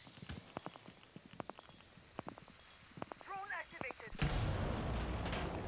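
A pre-placed C4 charge goes off in Rainbow Six Siege as one sudden, loud blast partway through, the burst filling the rest of the moment, following scattered sharp game impacts while a voice talks.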